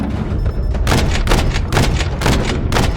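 A missile strike on a SAM site in Call of Duty MW3 lands as a run of loud, rumbling blasts, four or five heavy bursts in quick succession close by.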